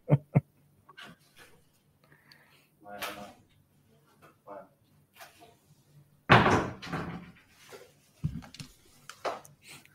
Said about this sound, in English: Knock on my door. I think the cleaner's rolled around.